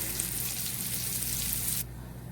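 Steady crackling sizzle of bacon and onions frying in a hot pan, close and continuous, dropping to a softer hiss near the end.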